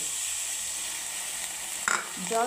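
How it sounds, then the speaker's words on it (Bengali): Green tomato masala for a katla fish curry sizzles and fries in a pan, a steady hiss with a brief clatter of stirring near the end. "কাঁচা টমেটোর যে কাঁচা গন্ধ সেইটা যাওয়া পর্যন্ত কিন্তু আমি ভালো করে একটু কষিয়ে নেব"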